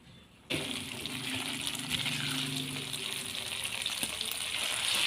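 Chicken and french fries hit hot oil in a pan with a sudden loud sizzle that keeps frying steadily and close, with light stirring scrapes mixed in.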